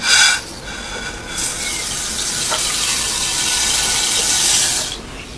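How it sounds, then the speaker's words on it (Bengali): Hot, lightly roasted mung dal goes into water with a brief splash and a steady hiss of water that lasts several seconds, close and fairly loud. "গরম মুগ ডালটাকে আমি পানিতে দিয়ে দিচ্ছি।"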